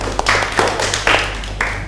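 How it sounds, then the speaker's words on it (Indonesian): A classroom group claps for group 1, a short burst of scattered claps with a few sharper strikes standing out over a steady low hum. "Berikan tepuk tangan untuk kelompok 1."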